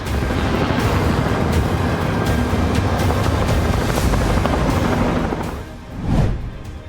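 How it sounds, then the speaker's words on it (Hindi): Two Black Hawk military helicopters on a rescue mission for a downed F-15E fighter jet produce a loud, steady rotor and engine roar that dips briefly and then swells again near the end. "F-15E फाइटर जेट के रेस्क्यू के लिए 2 ब्लैक हॉक हेलीकॉप्टर भी भेजे गए थे"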